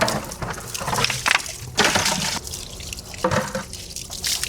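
Warm tap water running while detailing brushes are rinsed for a GMC Yukon Denali detail, a close, loud splashing flow with uneven bursts and drips, no voices.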